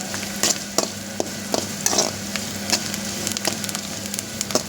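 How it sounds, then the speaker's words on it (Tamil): Mustard seeds splutter in hot oil: a continuous close sizzle dotted with quick, irregular pops and crackles, fairly loud and with no talking. "கடுகு பொரியட்டும்."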